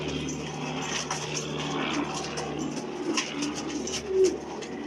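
Pigeons coo in soft, repeated calls close by in a loft, layered over a steady low background hum, with a faint drone of a passing airplane in the distance.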